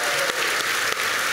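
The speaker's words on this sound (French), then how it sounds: "Applaudissements pour lui." An audience at a comedy show applauds loudly and steadily, with dense clapping from a crowd, and a few voices come through faintly underneath.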